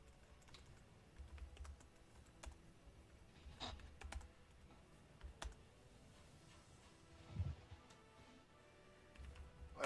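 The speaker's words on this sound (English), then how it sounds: "While you're typing." Quiet keyboard typing, irregular clicking keystrokes in bursts over a faint background hum, no talking.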